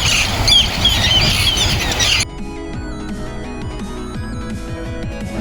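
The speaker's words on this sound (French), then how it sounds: "Il y avait énormément d'oiseaux nicheurs et marins comme des nondis ou des frégates." Nesting seabirds such as noddies and frigatebirds squawk on Lady Elliot Island, a dense chorus of harsh calls and squeals that shifts abruptly into a thinner, clearer run of repeated cries.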